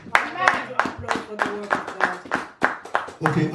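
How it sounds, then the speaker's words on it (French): Congregation in a church service clapping in a rhythmic, fairly regular beat, close and moderately loud, with a voice speaking over the claps. "Nous allons applaudir pour la parole de Dieu."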